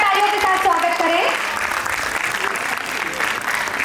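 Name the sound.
loud applause welcoming guests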